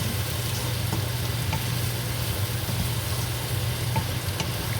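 Adobong sitaw, string beans cooked with meat and seasoning, sizzles steadily in a pan while being stirred, a dense even frying hiss with faint clinks of the spoon and a low background hum.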